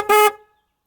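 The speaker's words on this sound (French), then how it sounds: "le seul avertisseur restant était pointé vers le ciel" A single short blast from the horn of a Saab 9-5 Turbo, its only remaining horn having pointed skyward and filled with water; loud, close and steady for about a quarter second, then ringing out briefly.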